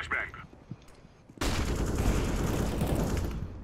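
Gunfire in Counter-Strike: Global Offensive, a sudden burst of loud rapid shots that continues without pause after quieter game sounds and brief voice at the start.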